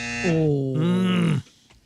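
A game show buzzer blares in a single sustained electronic tone lasting over a second, then cuts off sharply.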